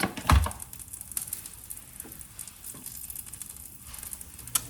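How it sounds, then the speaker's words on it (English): Dates caramelizing in butter over low heat in a pan give off a soft, continuous sizzle with light crackles and pops, close and steady, with no voices. "caramelizing dates in some butter on low heat"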